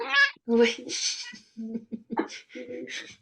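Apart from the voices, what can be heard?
cat meowing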